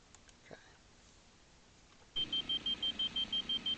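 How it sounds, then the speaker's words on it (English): Inside a military aircraft in a flight video game, a warning alarm suddenly begins after a quiet stretch, a loud series of about nine evenly spaced high-pitched beeps repeating in a steady rhythm. "What's that beeping noise?"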